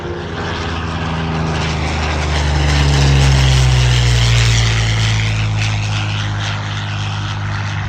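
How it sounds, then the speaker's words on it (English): A P-40 Warhawk fighter with an Allison V12 engine flies past at a Michigan air show, a loud droning propeller roar with a falling pitch that swells near the middle and then eases away. "Oh, here comes this beauty. There's a P-40."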